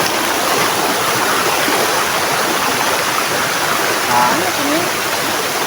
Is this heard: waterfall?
yes